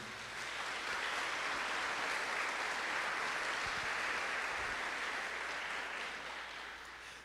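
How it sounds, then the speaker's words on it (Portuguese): A church congregation applauds in a steady, dense wash of clapping that holds for several seconds and then tapers slightly toward the end. "Vamos aplaudir a palavra do Senhor"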